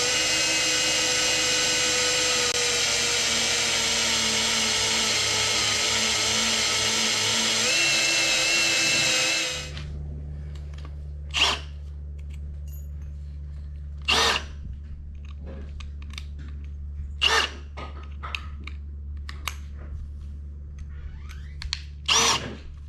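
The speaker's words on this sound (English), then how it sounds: "we've got our holes drilled all the way through in all 3 of them" A power drill bores holes through a metal awning hinge template, whining steadily and loudly for about nine seconds before stopping. Scattered clicks and handling knocks follow in the quiet.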